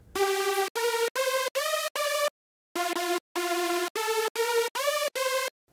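A bright synth lead plays short, abrupt notes that cut off sharply with no tail: a choppy phrase of five notes, a pause, then six more.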